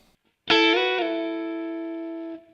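A Motown-style rhythm guitar lick in A rings out with a quick attack of a few notes sliding into one sustained chord that decays slowly for about two seconds, then cuts off, played alone without talk.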